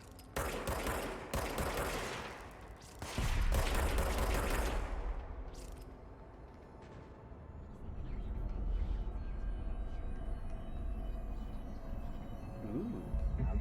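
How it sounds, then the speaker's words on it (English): Bursts of heavy automatic gunfire in the video game Control, loud volleys in the first seconds giving way to rumbling, mechanical low-end noise and scattered sharper shots. "I hear gunfire"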